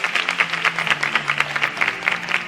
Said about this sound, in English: Kindly give them a round of applause as they exit.